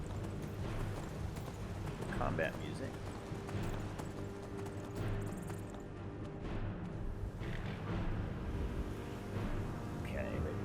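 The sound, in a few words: horse hooves galloping in video game Skyrim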